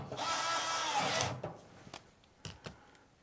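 A power drill whirs close and loud for about a second while backing out the last screws of a DIY LiFePO4 battery case, followed by a few light clicks and knocks.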